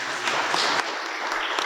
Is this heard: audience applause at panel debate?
yes